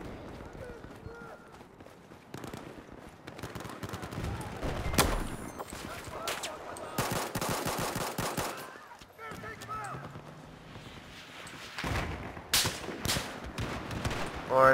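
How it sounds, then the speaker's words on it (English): Bursts of gunfire aimed at the player during a Battlefield 4 Conquest match, with rapid, loud, overlapping shots in dense volleys alongside game action and some voices. "Lord, I'm being shot at."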